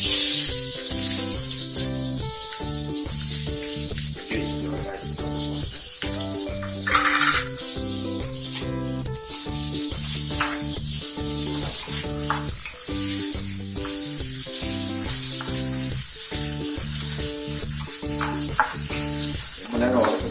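Dried red chillies and chopped onion fry in hot oil, crackling and sizzling loudly and continuously up close, with intermittent stirring scrapes and pan clatter.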